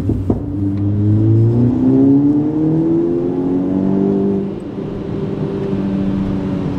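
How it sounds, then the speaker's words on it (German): A 370 hp tuned VW Golf 5 pulls hard in third gear, its engine note rising steadily and loudly up the rev range with strong harmonics before easing off briefly near the end. "Wir sind im dritten und geben einfach mal Gas."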